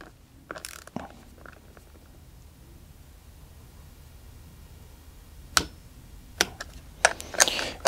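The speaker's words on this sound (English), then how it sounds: "So I'm going to torque all of these down to their right." Torque wrench tightening bolts on the terminals of a DIY LiFePO4 battery, set to 8 newton meters, giving soft ratcheting clicks followed by a few sharp, close snaps near the end, with no talk.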